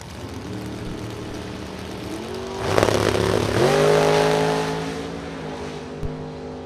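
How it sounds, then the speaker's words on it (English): A supercharged rear-engine dragster launches at a drag race with a rising, harsh engine roar that swells, holds loud for a couple of seconds and then eases, heard from a distance with no talk. "that supercharged rear-engine dragster from Algonquin"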